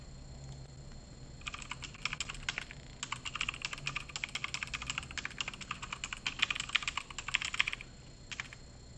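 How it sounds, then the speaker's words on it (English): Rapid clacking of mechanical keyboard keys in bursts, crisp and close, with a brief pause before a final few taps. "Sorry about my typing, guys. I know you hate the mechanical keyboard."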